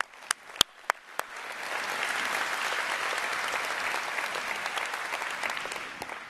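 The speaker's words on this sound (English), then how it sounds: "A round of applause, please," A conference keynote audience breaks into sustained applause after a few sharp early claps, the dense clapping building quickly and holding steady, loud and full.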